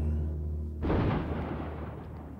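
Naval cruiser guns opening fire at sea, heard as a sudden loud boom and rumble that breaks in over a steady low drone and then slowly rolls away.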